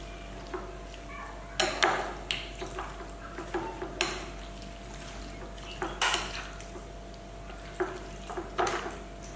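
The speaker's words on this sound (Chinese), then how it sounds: "搅拌均匀。" Chicken pieces with cooking wine, pepper, starch, peanut oil and ginger slices being mixed in a bowl, a series of wet squelching stirs and utensil clinks in bursts over a steady low hum.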